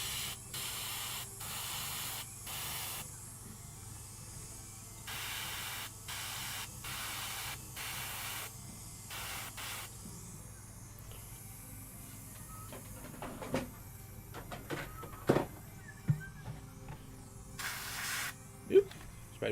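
Spray can bursts on 3D-printed tabletop terrain, a series of short hissing sprays in a steady rhythm, then quieter handling noises and a few sharp clicks and taps, close and moderately loud.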